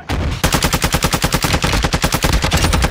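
Gunfire in a shooter video game, a loud, close, rapid automatic burst with evenly spaced shots running steadily and unbroken for nearly three seconds, no talk over it.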